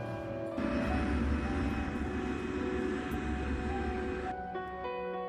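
A KLM airliner taxiing on a runway makes a loud, steady engine roar and low rumble that swells in after half a second, holds for about four seconds, then eases back to a quieter drone.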